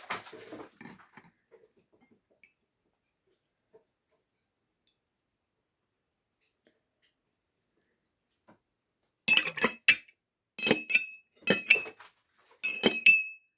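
A spoon being washed with diluted dishwashing liquid clinks against dishes in a quick series of bright metallic taps near the end, after a long near-silent stretch with faint rubbing at the start.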